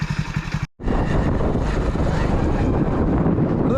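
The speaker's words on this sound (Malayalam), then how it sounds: "നമുക്ക് ഒരു കൈ കൊണ്ട് ബൈക്ക് ഓടിക്കണം" A motorcycle ridden along a road on Lakshadweep island, its engine a steady close drone mixed with heavy wind buffeting the microphone, continuous after a brief cut near the start.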